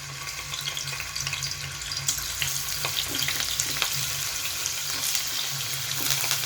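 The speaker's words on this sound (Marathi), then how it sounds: "कढईत मी तेल गरम करून घेतलेलं आहे, त्याच्यामध्ये मी आता हे पनीरचे क्यूब टाकते।" Paneer cubes frying in hot oil in a kadai, giving a continuous bright sizzle with crackling spits, steady and close.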